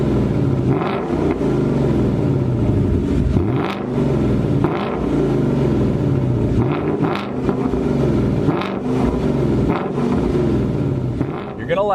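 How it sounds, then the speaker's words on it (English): Loud, steady engine roar from a 2019 Ford Mustang Bullitt with a 5-liter V8 and active exhaust, rumbling continuously with slight swells throughout, with a voice talking over it. "it gives you the option to turn down or turn up the sound of this wonderful 5-liter"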